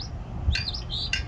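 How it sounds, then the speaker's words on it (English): A songbird outdoors on a spring day gives bright, warbling chirps in two short phrases, clear and fairly near, with no talking. "If it knew how disappointed I was right now, he wouldn't be singing so pretty over there."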